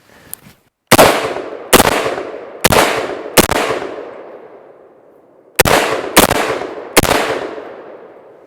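A Rhodesian FAL rifle fires seven loud, close single shots outdoors, each a sharp crack followed by a long decaying echo, in an uneven rhythm with a pause before the final three.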